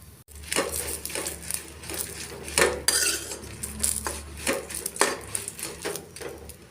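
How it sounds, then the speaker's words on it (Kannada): Green chillies are stirred and fried in a pan for a long-keeping green chilli chutney, with repeated close scraping clacks of a utensil against the pan over a low frying hiss. "ಮೆಣಸಿನ್ಕಾಯನ್ನು ಹಾಕ್ಬೇಕಂದ್ರೆ ಈ ಥರ ಮಾಡಿಬಿಟ್ಟು ಕೊಡ್ಬೋದು ಹೀಗೆ ಚೆನ್ನಾಗಿ ಹುರಿದುಕೊಳ್ಳೋಣ"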